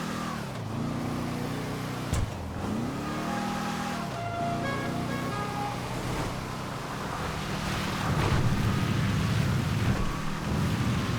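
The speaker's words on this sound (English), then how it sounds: "we are driving the vehicle to the garage" A car drives through the streets of a GTA video game, its engine note rising and falling in smooth revving sweeps, steady and moderately loud with no talk.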